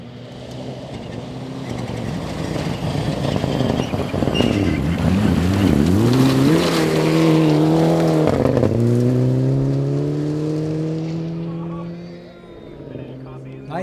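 A rally car on a stage of the 2012 Olympus Rally approaches from a distance, its engine building to a loud, revving pass with rising and falling pitch as it goes by, then fading away; speech is also present.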